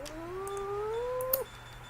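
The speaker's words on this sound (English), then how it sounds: "The cat is so upset." An upset cat lets out a single drawn-out caterwauling yowl that rises slowly and then breaks off sharply, close and clear against a quiet room.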